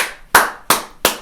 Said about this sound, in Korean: 박수부터.